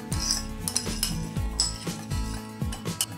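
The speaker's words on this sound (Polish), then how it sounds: "dokładnie mieszamy. Najlepiej to zrobić dwoma dużymi łyżkami." Two large spoons tossing a pasta salad with spinach, sun-dried tomatoes and vinaigrette, giving repeated clinks and scrapes against the bowl in an irregular rhythm, close and fairly loud.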